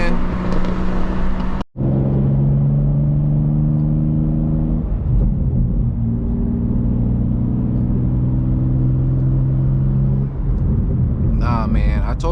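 A BMW M2 engine on a New York City highway holds a loud, steady drone with pitch shifts as it revs and shifts, close to the listener, broken by one brief cut and some voice toward the end.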